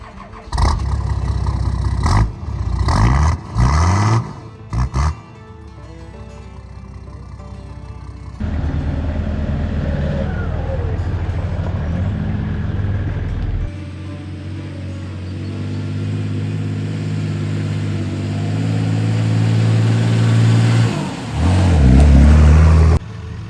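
A Nissan Patrol 4x4 drives off-road in New Zealand's central North Island: engine rumble and revving with gear changes and shifts in load, loud and close throughout, with brief bursts of harder acceleration.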